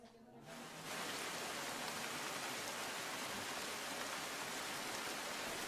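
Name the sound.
heavy rain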